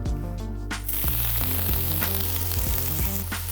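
Chopped vegetables sautéing in olive oil in a pan for a pizza babka filling; after a second, a loud, steady sizzle bursts in and continues over a background of music.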